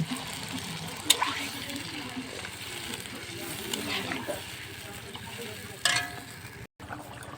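Water goes into a red-chili-spiced curry frying in a pan, bringing a soft steady sizzle with a few sharper splashy bursts, while someone talks over the cooking.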